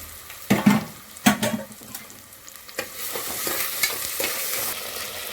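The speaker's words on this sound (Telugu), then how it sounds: "ఇప్పుడైతే ఆనియన్స్ వేసుకుంటున్నాను. అట్లనే ఇప్పుడైతే అల్లం వెల్లుల్లి పేస్ట్ వేసుకుంటున్నా కొంచెం." Chopped onions and ginger garlic paste frying in a pan for paya curry, with a spoon scraping and stirring in a few sharp bursts over a continuous close sizzle, and no talking.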